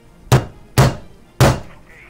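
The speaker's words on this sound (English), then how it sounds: "This hammer is just not doing enough damage." A hammer strikes a Nintendo DSi three times, each a loud, close, dull thunk followed by a short decay, with pauses between blows.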